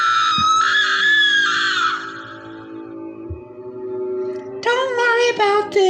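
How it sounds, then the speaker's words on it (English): Screams in a yandere horror video game, a loud drawn-out high scream that fades, then a second shrill scream after a short pause, alone without talk. "In the distance I hear screams."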